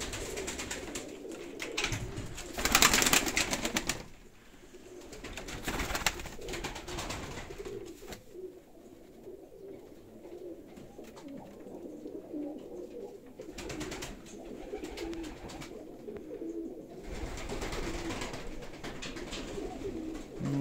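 Many pigeons cooing around a dovecote, repeated low throaty coos overlapping near and farther off, with louder bursts of wing flutter and scuffling at times.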